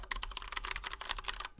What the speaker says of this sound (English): Like this is Cherry MX Black aluminum plate.